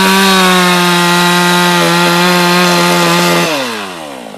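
Chainsaw cutting wood while trimming branches off fence posts in bushfire-burnt bush, a loud steady high-revving buzz that holds for several seconds, then drops in pitch and fades as the saw eases off.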